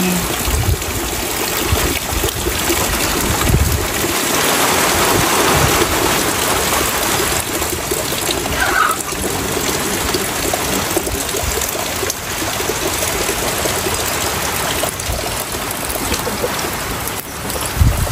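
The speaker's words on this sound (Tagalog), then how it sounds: "lumakas pa po lalo ang ulan" Heavy rain pours steadily and loudly throughout, a dense continuous hiss with a low rumble underneath and no voices.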